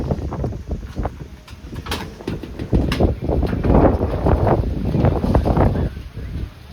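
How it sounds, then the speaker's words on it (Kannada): Wind blowing outdoors in chilly weather, rushing in gusty bursts that buffet the microphone, rising and falling over several seconds with no voices. "ಗಾಳಿ ಉಂಟು ಗಾಳಿ."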